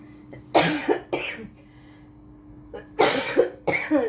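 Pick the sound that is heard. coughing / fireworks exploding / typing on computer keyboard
coughing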